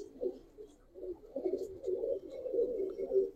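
Giribaz and colored pigeons coo in a loft, a soft, continuous low murmur of overlapping calls that swells and dips throughout, with no voices.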